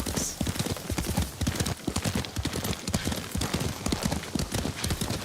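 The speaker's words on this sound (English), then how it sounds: "Lord Sakai taught me to ride a horse" Horse hooves clip-clopping at a riding pace in the video game Ghost of Tsushima, a loud, close, fast rhythmic beat that runs throughout, with game sound around it.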